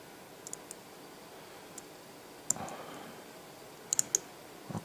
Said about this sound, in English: Probably you can hear the clicks.